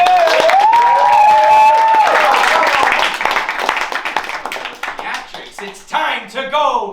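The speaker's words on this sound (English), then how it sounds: "Let's give a round of applause for Mr. Pink, everybody." Audience gives a round of applause for Mr. Pink, loud clapping and cheering with a whooping voice rising over it at first, then the clapping thins into scattered claps as a voice starts talking.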